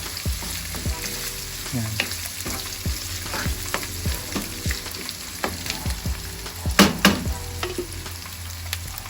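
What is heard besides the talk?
ground beef frying in its own fat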